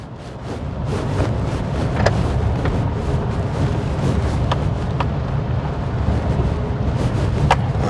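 A Maruti Baleno car drives over a bad road, with steady cabin road rumble and wind noise broken by repeated sharp knocks and thumps from the rough surface.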